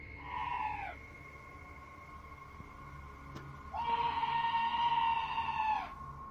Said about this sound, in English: This scream sounds like chills made audible, happening outside the door of what appears to be a trailer.